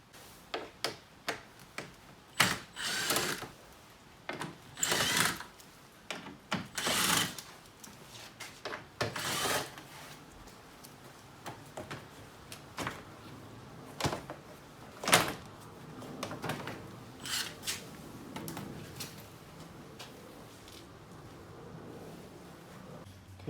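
Plastic interior trim cover being pried and unclipped from the dash of an Audi A4 to reach the AC switch, a series of sharp clicks, snaps and creaks at irregular intervals, close and fairly quiet, with no talking.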